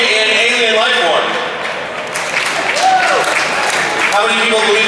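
Convention panel audience applauding and cheering at a Supernatural fan event, a broad wash of crowd clapping mixed with voices and shouts that dips briefly midway, then swells again.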